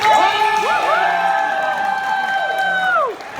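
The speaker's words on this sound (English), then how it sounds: "That deserves an applause." A convention audience cheers and whoops after Sonic Mania is mentioned, with loud sustained crowd shouting and whistles carrying on steadily for several seconds, then easing off at the end.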